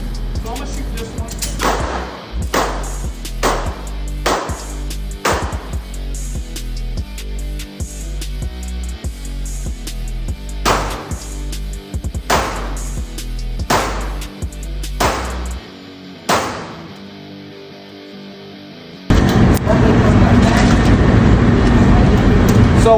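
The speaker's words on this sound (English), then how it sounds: "So I'm gonna shoot this one." Gunshots from a firearm with iron sights fired at a shooting session, a series of sharp, loud, close cracks spaced a few seconds apart, followed by a stretch of steady broadband noise.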